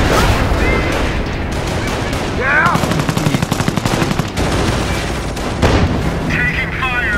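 Dense machine-gun bursts and rifle fire rattle continuously in a Company of Heroes Far East mod battle, with heavier booms mixed in, loud and close, while voices shout over the din.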